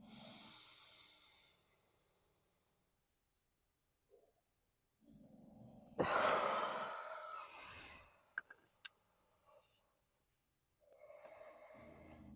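Deep, slow breaths drawn and released close to the microphone during a guided meditation, several long inhales and exhales separated by quiet pauses, with no talk over them.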